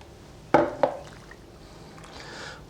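Water going into a lightweight bowl with flour for a high hydration bread dough, two sharp knocks and splashes followed by quieter wet stirring and scraping, close up with no talking.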